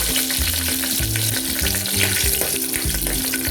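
Whole spices frying in hot oil in a pan for a Chettinad biryani made from a kit, a loud, dense, continuous crackling sizzle close up, with a faint low hum underneath.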